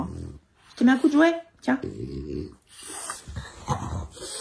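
A bulldog snorts and grunts close by in a home, short wet nasal snuffles and rough breaths coming in bursts, while someone speaks French over and between them.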